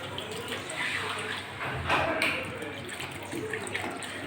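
Cold water pours into chicken cooking in a pan, a continuous close splashing stream with a brief stronger gush midway, running steadily throughout.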